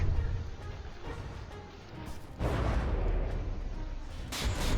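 Warship guns shelling in a naval battle in the video game From the Depths, a steady roar of heavy booming fire that swells louder midway, with continuous dense rumble throughout.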